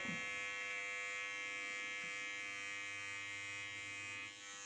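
A 2022 Gillette intimate trimmer cuts a goatee with a continuous close electric buzz, a steady motor whine throughout with small shifts in pitch as the blade moves over the hair.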